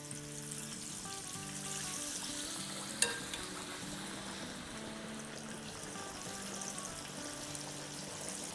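A whole red snapper, coated in masala, frying in hot oil gives a steady, close sizzle and crackle that holds evenly for several seconds, with one sharp click partway through.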